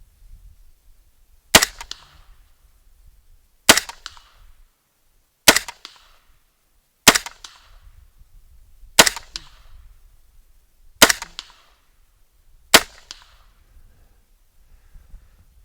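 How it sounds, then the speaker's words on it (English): Seven sharp rifle shots fired from the prone position off a Feyachi B13 M-LOK bipod, spaced about two seconds apart, each a loud crack with a short ringing tail outdoors. "Let's try a few shots from the prone position."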